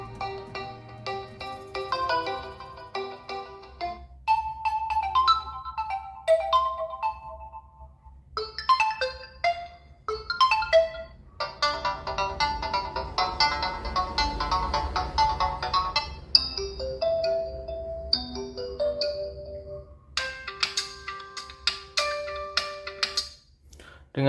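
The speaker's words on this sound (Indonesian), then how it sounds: "kita coba kualitas dari speaker Realme Narzo 50A ini untuk memutar ringtone" A bright electronic ringtone melody plays loudly from a Realme Narzo 50A phone speaker at near-full volume, a repeating chiming tune with bass underneath, no talking.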